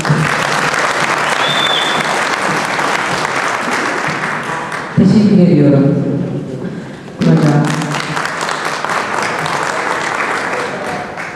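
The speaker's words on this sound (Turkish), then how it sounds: "daha güçlü bir alkış istiyorum efendim" A crowd at the 2009 Ahilik festival in Mudurnu breaks into loud, sustained applause, briefly interrupted by a nearby voice and thumps before the clapping swells again and carries on.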